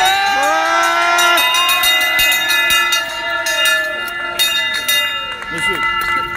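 A bell rings repeatedly with bright metallic clangs over a crowd and people talking at a boycott protest at a Carrefour store, close and fairly loud.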